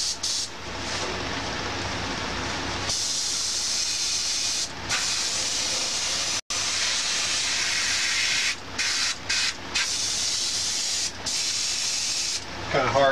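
Airbrush spraying yellow ochre paint onto a stenciled T-shirt: a steady, close, loud hiss of compressed air that runs on with brief gaps where the trigger is released, one sharp dropout in the middle.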